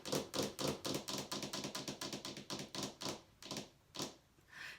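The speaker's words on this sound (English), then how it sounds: "That's my nails clicking." Rapid, crisp clicking of fingernails tapping a hard surface, a dense run of close taps that thins into a few slower clicks.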